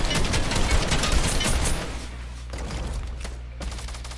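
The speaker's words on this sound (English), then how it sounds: "Let's see who's firing at me." Rapid gunfire from a video game firefight, dense bursts crackling loud for the first two seconds, then lighter scattered shots and echoing volleys continuing through the rest.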